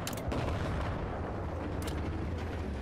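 Gunfire in the video game Battlefield 4, with a sharp shot at the start and another burst near the end over a dense, continuous rumble of battle noise.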